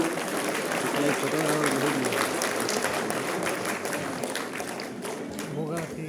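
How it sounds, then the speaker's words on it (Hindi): An audience applauds steadily at a National Voters' Day ceremony, a continuous wash of many hands clapping, with a voice speaking over it. "तालियां कमजोर नहीं होनी चाहिए।"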